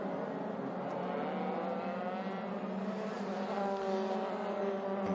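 EuroFormula Open race cars at Spa, engines droning at high revs with a steady sustained roar that sits at a moderate distance.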